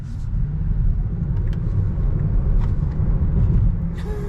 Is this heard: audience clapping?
no